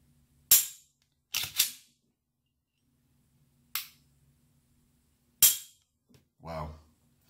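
Glock 17 Gen 3 build with a Polymer 80 frame and aftermarket trigger parts, dry-fired: five sharp, separate clicks of the trigger breaking and resetting, close and loud, spaced over several seconds, with a softer rattle near the end.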